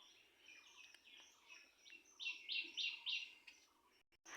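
A young pet bird, kept alongside a myna, gives soft, high chirps, then a quick run of four louder repeated calls near the middle, all fairly faint in a quiet room.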